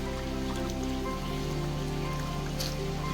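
Koi pond waterfall fed by a 12,000 L/h pump, water rushing and splashing in a dense, steady roar, close and continuous throughout with no voices.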